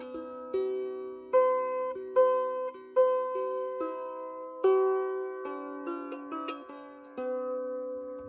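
The Korean children's song San Tokki is played as a simple melody on a lira (lyre) at home, each distinct note starting with a clear pluck-like attack over a steady low drone, close and clean with no voices.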